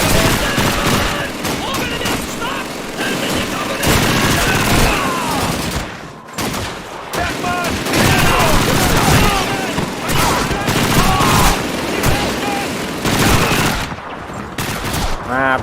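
Loud, dense gunfire in the video game Call of Duty 2, with rattling machine-gun bursts and rapid shots continuing almost without pause, broken by brief lulls.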